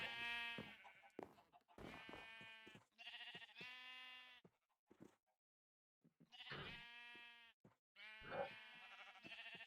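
Sheep in a blocky survival crafting game bleat several times in a row, clear harmonic cries with short pauses between them, loud and close with no talk over them.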